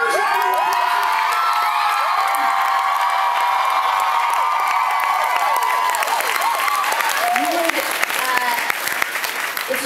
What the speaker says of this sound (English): Would you guys give a huge round of applause?